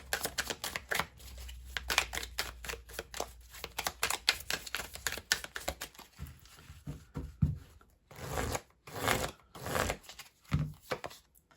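Tarot cards shuffled repeatedly in close, rapid bursts of riffling and slapping, with brief pauses before cards are drawn and set down; no one talks.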